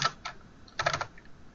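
Typing on a computer keyboard to enter reservation details: two quick bursts of key clicks, close and clear, separated by a brief pause, with no talking.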